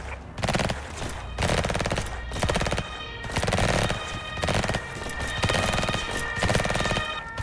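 Rapid machine-gun bursts from the emergency-response video game Emergency, arriving in repeated loud volleys about every second with short gaps between them.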